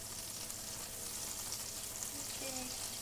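Food sizzles steadily in a hot pan, a constant crackling hiss with no pauses, fairly close.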